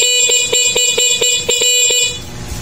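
A Honda Mio Soul motorcycle horn stuck on, honking in a rapid, evenly pulsing burst of about eight loud blasts before cutting off, with steady engine noise left underneath.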